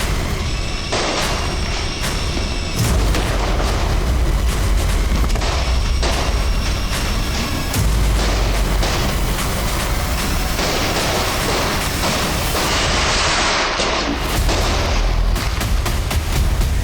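Diwali evening firecrackers burst in a dense, continuous barrage of loud booms and sharp bangs, near and far, with gunshots lost among them; no voices.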